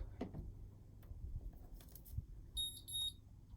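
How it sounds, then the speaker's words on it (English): Two short high-pitched electronic ready beeps from a Colop e-mark create handheld printer sound in quick succession near the end, following faint handling clicks and rustles in a quiet room. "It beeps to let me know it's ready"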